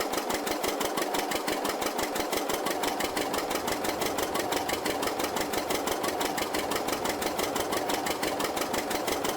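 Slow farm tractor running in a farming simulator game, its engine chugging steadily in a fast, even, unbroken rhythm that stays loud and close for the whole stretch, with no talk over it.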